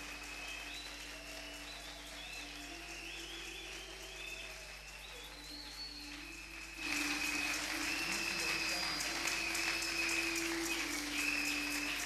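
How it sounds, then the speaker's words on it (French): Congregation applauding at a prayer service, steady clapping mixed with sustained tones and background noise, swelling noticeably louder about halfway through and staying strong to the end. "Applaudissons très fort."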